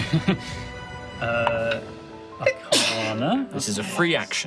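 A person sneezes sharply twice during a tabletop role-playing game session, the sneezes close and loud amid the players' conversation.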